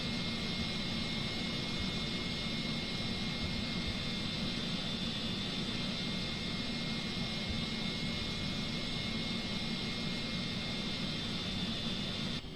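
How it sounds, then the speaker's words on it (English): A simulated jet airliner engine in the X-Plane 10 flight simulator hums and whines steadily at low level, a constant broadband roar with a thin high tone and no speech over it. "Let's start up the engine"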